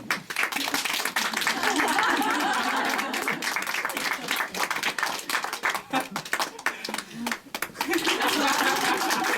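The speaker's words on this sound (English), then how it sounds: "Clap your hands." An audience claps hands in a lively burst of mixed clapping, with scattered chuckles and voices talking over it, the rhythm uneven and swelling and dipping.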